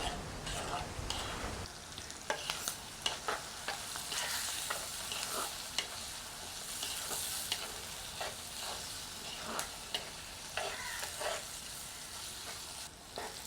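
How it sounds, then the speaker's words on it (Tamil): Oil sizzling and frying in a clay pot while cooking for a fish curry, a steady crackling hiss with occasional stirring clatters, close and moderately quiet throughout. "எண்ணெயெல்லாம் கொதித்து இப்படியே வதங்கி கொண்டிருக்கட்டும்"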